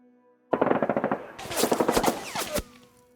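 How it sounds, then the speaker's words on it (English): Assault rifle gunfire in a Konflikt '47 tabletop wargame battle, Soviets versus Axis: a loud rapid burst of automatic shots, then a second denser burst about a second later, alone with no talk. "they're going to be firing their assault rifles at the sniper in the watchtower"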